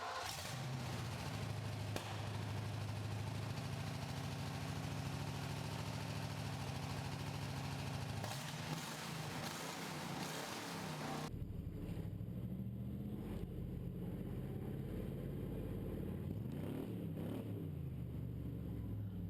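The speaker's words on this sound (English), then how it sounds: "I'm gonna start it for the first time, or attempt to start it" A freshly rebuilt car engine cranks, catches and settles into a loud, steady idle with occasional revs, heard close and alone.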